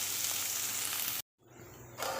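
Chopped onion hits hot oil already crackling with mustard seeds and cumin in a wok, giving a loud, dense sizzle that cuts out abruptly for a moment, then resumes, hissing again.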